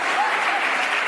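An audience claps together in a short, dense burst of applause that fills the whole moment, steady and fairly loud, with no voices standing out above it.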